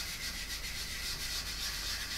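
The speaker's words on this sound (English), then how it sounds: "you go around and we're just sanding it all in." Filler on an Intruder model aircraft is sanded back by hand, giving a quiet, steady, continuous rubbing with a gentle back-and-forth pulse and no talk.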